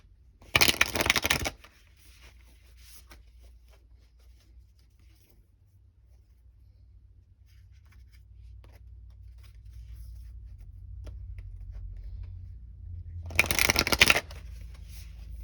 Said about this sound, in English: I feel like I should pull a couple more cards.